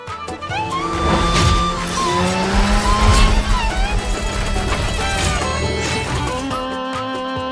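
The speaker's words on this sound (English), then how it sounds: "I just like to listen to the motor" A car engine revs and drones steadily, loud and close, with tonal sweeps that suggest tire squeal and skidding, mixed with busy background sound throughout.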